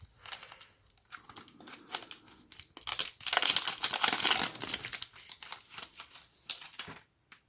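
Plastic wrapping is torn and crinkled off a Japanese Dragon Ball album package, a close rustling that swells into a dense burst of crackling before settling into scattered clicks and rustles.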